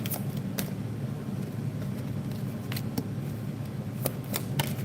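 A deck of oracle cards being shuffled, soft riffling and sharp card snaps at irregular intervals over a low steady room hum, close and fairly quiet.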